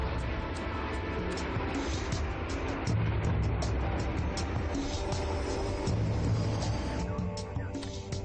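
A Helios Airways airliner, flight 522, takes off from runway 04 at Larnaca airport, a steady loud roar of jet engines and rushing air that holds at full strength throughout.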